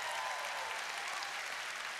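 A church congregation at a Sunday service claps in a broad, steady wash of applause. It sounds distant and faint.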